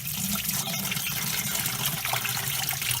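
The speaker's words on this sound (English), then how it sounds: "And I'm going to turn on the cold and a little bit of the hot" A kitchen or bathroom tap runs with cold and a little hot water mixed to lukewarm, a steady close rushing stream that fills the whole clip without pause.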